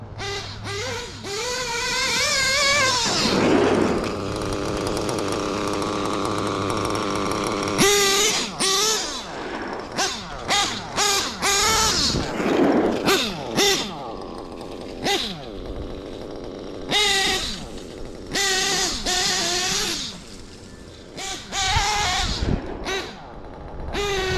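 A Losi RC car's SH 28 nitro engine runs with a loud, buzzing rasp, revving up and down in bursts with abrupt cutoffs and brief gaps between high-pitched whines.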